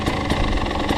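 A KTM 300 TPI SM two-stroke supermoto engine idles steadily up close, a continuous low throbbing rumble with slight pulsing and no speech.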